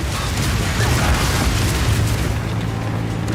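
Incendiary bolt explosions in the action RPG Path of Exile 2 form a loud, continuous rumbling boom with layered bursts and low crackling roar, sustained throughout without any voices.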